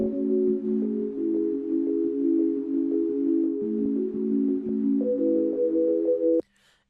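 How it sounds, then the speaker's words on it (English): Avatar Bell synth bell preset in Analog Lab sounds sustained, warm bell-like chords that shift several times over a faint ticking pulse, then cut off abruptly near the end. "It's called Avatar Bell, and it sounds like this."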